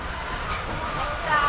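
Steady low rumble and hiss of a slowly moving passenger train heard from inside the carriage, continuous and moderately loud throughout.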